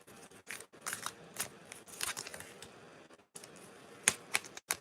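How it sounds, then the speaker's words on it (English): Tarot cards being shuffled and one drawn from the deck, a close series of crisp papery flicks and riffles in short bursts separated by brief pauses. "I'm just going to get one more card here."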